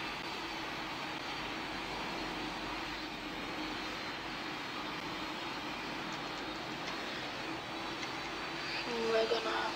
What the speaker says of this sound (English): Gonna turn on these six massive jet engines.